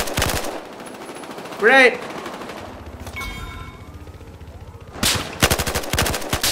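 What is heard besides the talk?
gunfire in the video game Battlefield Hardline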